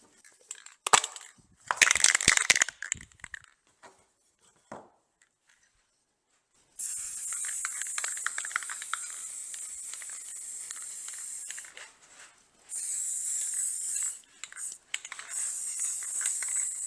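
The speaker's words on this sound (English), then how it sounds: "Then I'll be able to paint these two pieces with the spray paint." A spray can hisses in long steady bursts, broken by short pauses, after some brief handling clatter at the start.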